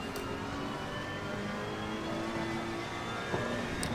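A GT4 race car in Assetto Corsa Competizione drones steadily through a continuous engine whine with shifting pitch as it downshifts, a brief blip near the end, no voices.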